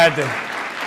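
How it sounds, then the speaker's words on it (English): A student audience at Northwestern claps and cheers throughout, a dense wash of applause that starts loud and settles slightly, with a voice briefly audible at the start. "had to get a cheap applause break there"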